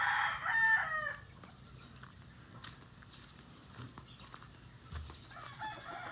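Backyard roosters at a Philippine piggery farm crow in the distance, one call near the start followed by quieter background fowl sounds and faint rustling; no one speaks.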